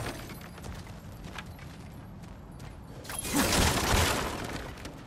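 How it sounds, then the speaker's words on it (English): Objects being smashed in God of War Ragnarök, heard as a dense crashing, shattering burst that swells loud midway over continuous game ambience and then fades. "back to smashing through things for fun and profit"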